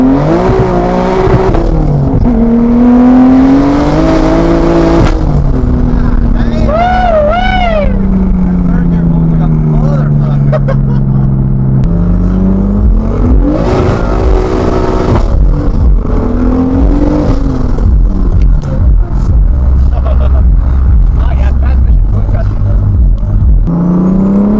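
A single turbo BMW F80 M3 accelerates hard from inside the cabin, engine pitch climbing through several gears with sharp drops at each shift, loud and near, with people talking over it.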